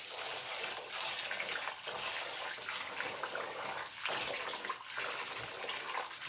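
Tap water runs steadily into a sink while loose rice is washed, a soft continuous splashing with small dips and surges as the grains are stirred, fairly faint and without talk.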